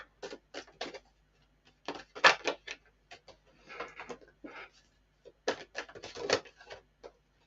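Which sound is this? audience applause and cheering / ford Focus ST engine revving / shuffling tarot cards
shuffling tarot cards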